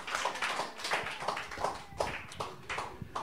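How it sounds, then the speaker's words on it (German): Applause at a rock radio studio interview, a small group clapping in a quick uneven rhythm, fairly faint and close, with no talk over it. "Es gibt nochmal einen Applaus für Micha."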